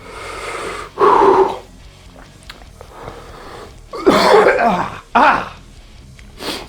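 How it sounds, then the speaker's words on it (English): Harsh, wheezing coughs and sputtering throat clearing from a nearby man after eating a Carolina Reaper pepper, coming in loud bursts over a steady background hiss. "Some good coughing going on"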